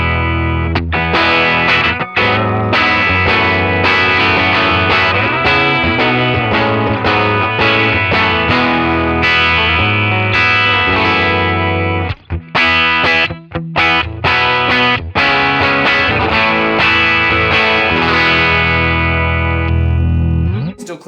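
Electric guitar played through a 1960s Fender Deluxe Reverb amp with the amp's reverb on, a driven, effects-colored tone ringing continuously with sustained chords and picked notes, loud and alone, with a couple of brief gaps.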